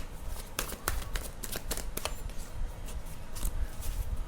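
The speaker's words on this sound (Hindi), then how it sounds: "मैं शफल कर देती हूँ थोड़ा और" Tarot cards shuffled by hand, a steady run of quick riffling flicks and soft slaps, close and clear with no speech.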